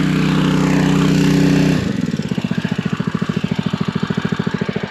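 A small engine runs loud and close, revving hard and then dropping to a rough, steady idle with a fast, regular chugging pulse.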